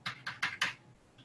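Four quick keystrokes tap on a computer keyboard in a short, even burst, close and fairly quiet, followed by near silence.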